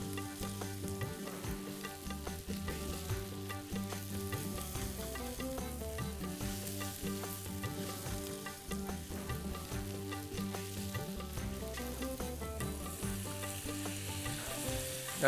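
Onions fry in a tempering with chilli and coriander, a steady close sizzle and crackle with faint stirring, continuous and even throughout, with no voices.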